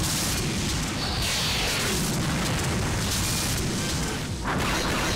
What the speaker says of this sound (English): Beam cannon, please hit something.